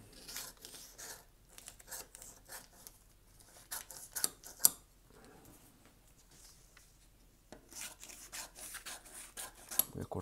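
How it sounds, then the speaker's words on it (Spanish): Scissors snip through paper slips being cut for a raffle, close up, in quick irregular bursts of crisp cuts and rustling, with a few pauses between runs. "Vamos a pasarle un tijeretazo y vamos a irlos doblando."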